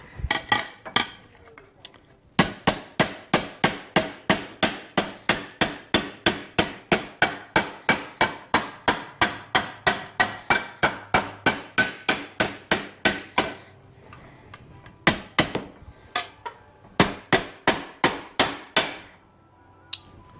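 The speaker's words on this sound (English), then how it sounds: "If I try using a potty hammer, my arm won't get so tired." Body hammer repeatedly striking sheet-metal floor panels on a 1940 Mercury, a fast steady run of sharp metallic blows with brief pauses, loud and close, with no talk.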